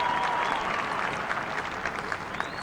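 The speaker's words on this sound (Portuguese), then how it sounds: "E a multidão aplaudiu." A crowd applauds during a presidential inauguration speech, with steady, dense clapping filling the whole moment at moderate distance.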